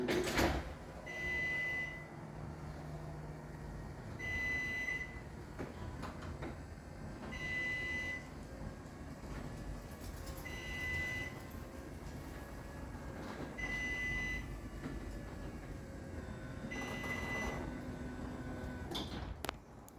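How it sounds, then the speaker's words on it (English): A Chamberlain HD900D garage door opener running a small door, a low mechanical rumble of the motor and moving door with repeated high squealing creaks at regular intervals, fairly quiet overall. "Door creaks. Oops, door creaks a little bit, but that's alright."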